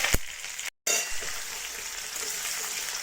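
Chopped onions frying in hot oil in a wok for a mixed vegetable curry, a steady loud sizzle with a brief cut near the start.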